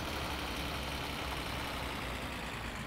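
Steady car engine drone in the driving game My Summer Car, a continuous broadband roar held at an even level throughout with no clear rise, alone without talk.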